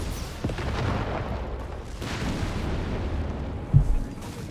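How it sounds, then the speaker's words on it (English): Carpet bombing in Company of Heroes 3 rolls as a continuous low rumble of distant explosions, with one sharper, closer boom late in the clip, under a steady dull roar. "There is clearly a carpet bomber."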